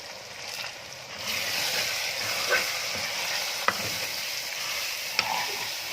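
Capsicum and tomato pieces stir-frying in a pan make a soft continuous sizzle, with occasional light scrapes and taps of a spatula, moderately close and without talk.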